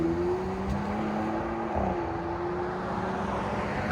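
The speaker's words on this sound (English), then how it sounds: "Flowmaster Super 10 on a Ram Hurricane." A 2026 RAM 1500 pickup with the 3.0L Hurricane inline-six and a Flowmaster Super 10 exhaust holds a steady, loud, droning exhaust note, close and even throughout, with a slight shift in pitch midway and no talking.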